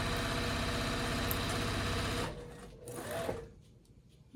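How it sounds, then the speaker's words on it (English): A sewing machine stitches straight across quilted bag fabric, a fast, steady, close mechanical chatter that runs for about two seconds before stopping, followed by faint handling noises. "you just sew straight across"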